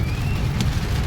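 Rain falling steadily in Karachi, a dense, even hiss of drops with a low rumble underneath and no talking.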